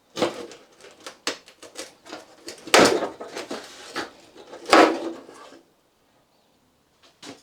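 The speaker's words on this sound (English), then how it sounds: "pull the wing outwards and away from the car" Scraping, clicking and creaking of plastic panel parts as the front wing is pulled off a Mazda MX-5 Miata Mk2, irregular bursts close by, then near silence.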